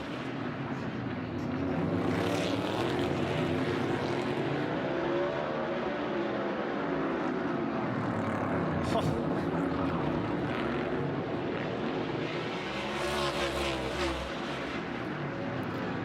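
NASCAR stock cars, including a Ford, race on the track at the 2022 Clash at the Coliseum late in the event, a dense, continuous engine roar with passing swells throughout.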